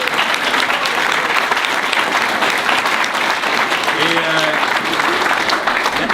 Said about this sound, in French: Évidemment, moi je pense que c'est beaucoup, on devrait s'applaudir